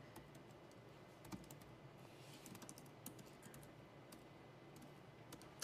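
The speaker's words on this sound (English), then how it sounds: "A bit different on typing on the podium." Rapid, irregular clicking of computer keys being typed on a laptop or keyboard at a podium during a conference talk, fairly quiet and close, with no speech.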